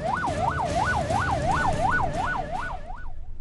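Ambulance convoy sirens wail loudly in a fast, regular rising-and-falling cycle over road traffic rumble, close and continuous with no voices.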